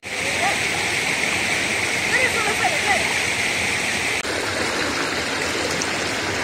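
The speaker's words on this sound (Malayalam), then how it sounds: "ശരിക്കും ഈ വെള്ളം ഇങ്ങനെ ഒഴുകി പോകുന്നതിന്റെ വോയിസ് എന്ന് പറയുന്നത്, ആ ശബ്ദം ഭയങ്കര പോസിറ്റീവ് അല്ലേ" A stream at Orappankettu rushes over rocks in a constant, close wash of flowing water with small splashes, and a voice is faintly heard beneath it.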